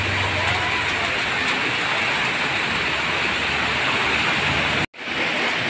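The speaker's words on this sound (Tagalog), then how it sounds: "Ang lakas ng ulan. Ang laki na ng tubig sa ilog." Heavy rain pours steadily alongside a swollen, flooding river, making a dense, loud roar of rushing water that drops out only for a brief instant.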